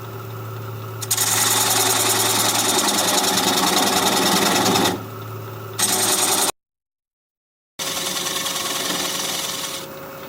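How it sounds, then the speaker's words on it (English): A wood lathe spins an oak-root bowl at about 600 RPM while a 3/8-inch standard-grind bowl gouge cuts away the tenon. It gives a steady, loud rasping hiss that stops briefly partway through and then resumes. "Take a 3/8 inch standard grind bowl gouge and begin to removing that tenon."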